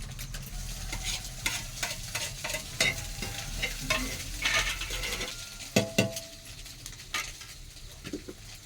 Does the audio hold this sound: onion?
yes